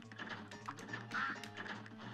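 Ducks quack in the Cuphead video game, a quiet, busy run of short nasal calls blended with game effects and no talking.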